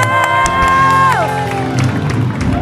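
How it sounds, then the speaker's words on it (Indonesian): A studio audience at an Indonesian television show applauds and cheers, a dense crowd roar with whoops, partly under a loud sustained tone of music or a voice. "tepuk tangan dong buat Raffi dan Gigi."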